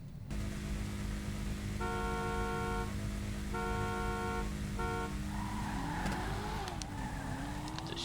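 Street race start in GTA 5: three evenly spaced car horn honks over an idling engine, then engines rev up and tires squeal as the cars pull away, fairly quiet and with no talking.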